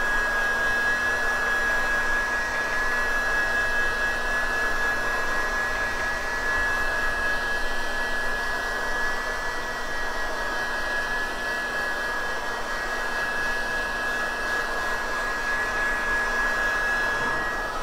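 A hot-air dryer blows steadily for the whole stretch, drying screen-printed photoluminescent plastisol ink on fabric. The airflow is a loud, continuous whirring hiss with a fixed whine above it, and no one speaks.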